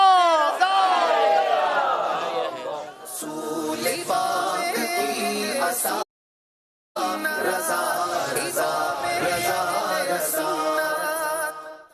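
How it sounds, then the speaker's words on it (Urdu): An audience at a devotional naat competition answers a slogan with loud, repeated collective shouts, the calls coming in waves, broken by a brief silent gap partway through. "نعرے کا جواب دیجئے فیضان رضا"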